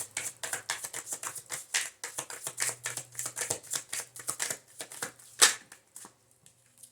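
Tarot cards being shuffled and drawn by hand, a steady run of quick papery riffles and slaps close by with one sharper snap near the end, then fading to quiet.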